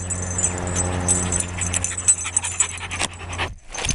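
Dogs pant rapidly and close by on an evening walk at sunset, with a jingle of tags or keys and a few soft whimpers, the breathing cutting off abruptly near the end.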